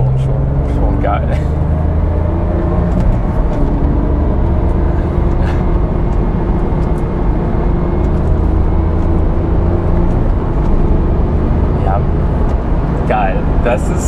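A 1999 Porsche 911 Carrera 4 Cabrio 996 drones with a steady, low engine rumble from inside the moving car, held at an even level beneath a person talking.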